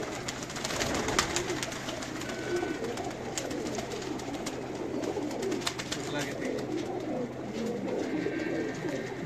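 Pigeons coo steadily and close in a pigeon keeper's loft, with soft repeated calls layered over one another and faint background voices.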